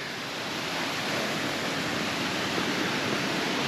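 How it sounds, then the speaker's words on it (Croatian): Steady broadband roar of a waterfall in a forest, loud and unbroken throughout, with no voices. "vodopad"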